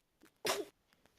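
A single sharp sneeze from a small pet, close and loud, with faint breathy sounds before and after.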